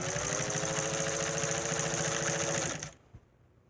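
A 306 K sewing machine runs a straight stitch with pink top thread and green bobbin thread, a steady close mechanical whirr that stops abruptly near the end, no talking.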